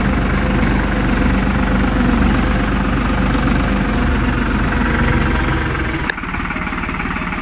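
Engine of a 2021 New Holland TT55 tractor idles with its hood open, a loud steady rumble recorded up close, with a brief knock near the end and no talk over it.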